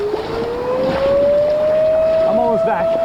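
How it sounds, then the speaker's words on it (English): A warning siren wails with a long, slowly rising tone over wind and rushing background noise, with a voice briefly audible near the end. "I got 2 more sirens."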